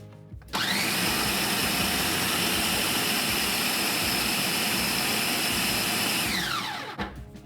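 A food processor chops beef, a loud steady motor whir starting abruptly and running continuously for several seconds before winding down, close by with no talking.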